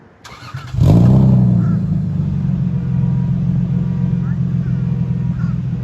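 A 2JZ engine in a Lexus GS300 with a single-exit exhaust and Megan Racing midpipe fires up and settles into a loud, steady, deep idle rumble that holds close and continuous to the end.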